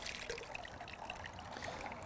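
Air bubbles rise from bonsai soil soaking in water, a soft continuous fizzing and trickling with tiny popping bubbles, close and steady, with no voices.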